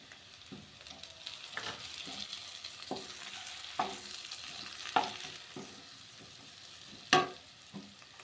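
Onion and tomato frying in a pan for a curry, a soft steady sizzle broken by intermittent spatula scrapes and a few sharper knocks against the pan, close but fairly quiet, with no talking.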